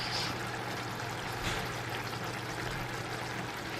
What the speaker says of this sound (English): we're gonna add a little bit more water to it.